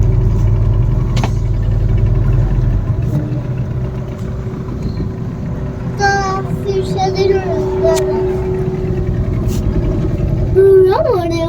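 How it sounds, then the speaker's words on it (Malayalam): A glass-bottom boat's engine in Lakshadweep runs with a loud, low, steady rumble that is strongest at first, then eases into a softer drone while voices carry over it. "ഇതാണ് ഗ്ലാസ് ബോട്ട്."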